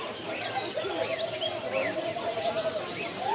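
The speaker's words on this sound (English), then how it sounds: "It's a lot of birds, man." Many small birds chirp and tweet together in a dense, continuous chorus, likely a crowded bird market or aviary in Belo Horizonte, Brazil, with someone talking over the busy calls.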